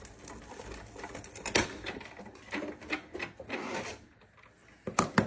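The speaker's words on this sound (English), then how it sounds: "So thread that one through our Sizzix Big Shot Plus as well." A Sizzix Big Shot Plus die-cutting machine being cranked with a workpiece fed through, quiet irregular ratcheting, rubbing and clicking sounds in uneven bursts, ending with a couple of sharper knocks.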